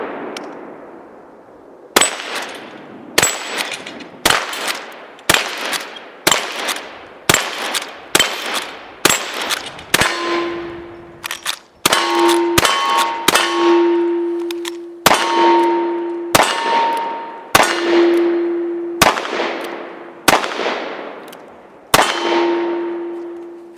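A Ruger Blackhawk .44 Magnum fires repeated sharp shots at an outdoor range, each followed by a ringing clang as steel target plates and a popper are struck, with many evenly spaced reports over a long stretch.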